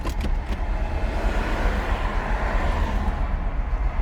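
A Chrysler 300C engine runs with a steady, low, rumbling drone that holds close and even throughout, with a few sharper ticks at the very start and no talking.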